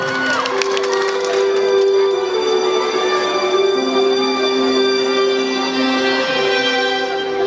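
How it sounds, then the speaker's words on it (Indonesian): Crowd cheering and applauding at a high school musical drama performance in Bekasi, with sustained music and singing carrying over the noise of the audience. "Tepuk tangan teman-teman."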